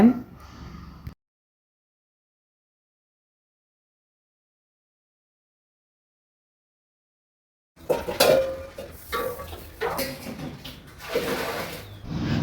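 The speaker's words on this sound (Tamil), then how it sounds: "இப்போ நான் வந்து சில்வர் பாத்திரம் மட்டும் விளக்கி வச்சுடுவேன்" Steel (silver-coloured) dishes clink and clatter close by, pots knocked and scrubbed while being washed, after a long stretch of silence.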